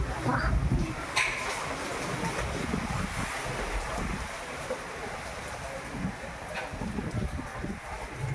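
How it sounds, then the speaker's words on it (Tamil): Strong gusts buffet the microphone in a steady roar, with surf and open water sounds underneath and occasional faint voices. "நல்ல காற்று"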